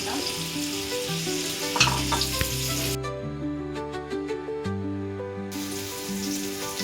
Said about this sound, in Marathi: फ्राय करायला ठेवलेत आपण.